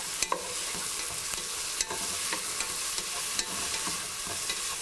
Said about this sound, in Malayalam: ഇതിലോട്ട് നമ്മൾ കട്ട് ചെയ്ത് വെച്ചിരിക്കുന്ന ടൊമാറ്റോ ഇട്ട് മിക്സ് ചെയ്യുക.